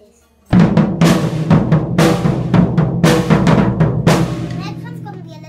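Drum kit beat plays loudly and steadily, with a punchy bass drum and sharp cymbal and snare hits in a repeating groove, ending with a ringing crash fade.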